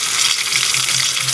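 A fish head fries in a pan, giving a steady close hiss and crackle of hot oil throughout the short moment.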